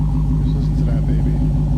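A 2019 Dodge Challenger SRT Hellcat Redeye Widebody idles with a deep, steady engine rumble that is loud and close and holds constant throughout.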